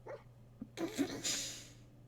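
Dogmeat, the dog companion in Fallout 4, gives a short whimpering bark and some breathy panting, fairly faint over a low steady game hum.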